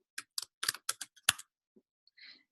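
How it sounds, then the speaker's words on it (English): Quick run of key presses on a computer keyboard as a password goes in, about eight close crisp clicks in an uneven burst, then a pause and a faint final tap. "I'm going to type this in."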